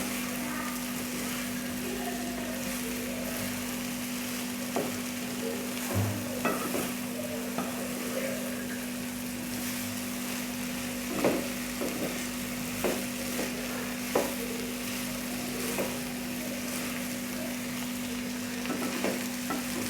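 Okra frying over low heat in a pan while being stirred, a steady close sizzle broken by irregular scrapes and clinks of the spoon throughout.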